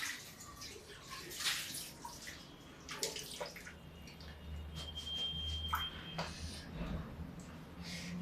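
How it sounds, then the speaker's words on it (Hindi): Water from a tap runs quietly onto a plate being rinsed in a home kitchen, a soft continuous trickle with small splashes and clinks, faint and close. "अभी इसका प्लेट को धो लेते हैं।"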